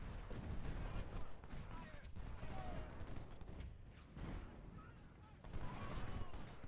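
Dense, rumbling musket and artillery fire rolls continuously across an Antietam battle in the video game Ultimate General: Civil War, with overlapping volleys and booms under a speaking voice.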